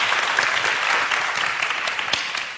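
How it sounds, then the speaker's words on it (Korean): Audience clapping in a hall, a steady burst of applause that runs continuously for a couple of seconds at moderate loudness, without speech over it. "우리 박수 한번 쳐주시죠."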